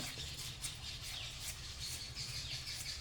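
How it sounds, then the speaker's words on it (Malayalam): Small birds chirp faintly in short, repeated calls somewhere nearby outdoors, over a low, quiet background hum. "ഇതാണ് കിളിയൊക്കെ അപ്പുറത്ത് കരയുന്ന സൗണ്ട് കേൾക്കും."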